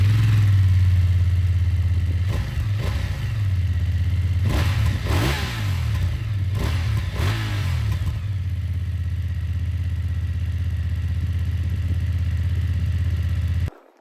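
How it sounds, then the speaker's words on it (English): BMW F 900 GS Enduro motorcycle with an Akrapovic exhaust, idling close by and then revved in several sharp blips that rise and fall before the engine settles and cuts off at the end. "all these 900s come out with this nice little acro exhaust"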